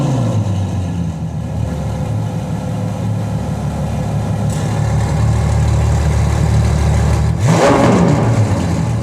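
Ferrari F12 Berlinetta engine droning steadily through its exhaust, then a sharp rev swelling near the end, loud and close with no talking.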